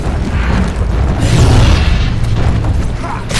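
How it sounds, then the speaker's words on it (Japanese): An explosion in the video game The Witcher 2: Assassins of Kings swells into a deep rumbling boom with crackling debris, loud and close, then trails off. "爆発が起こる。"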